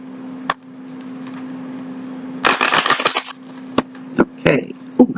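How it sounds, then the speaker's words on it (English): A Kipper card deck is shuffled by hand: a short, dense riffle burst, close and crisp, bracketed by separate card taps and clicks over a low steady hum. "One more shuffle and here we go."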